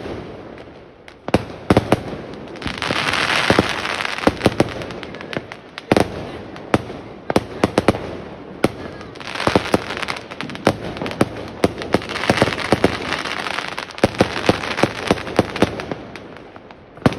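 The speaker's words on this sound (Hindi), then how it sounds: "इधर बड़े पटाखे चल रहे हैं" Big firecrackers go off during Bhai Dooj celebrations: loud, sharp bangs burst irregularly one after another, some close and some farther off, over a continuous crackling, fizzing background.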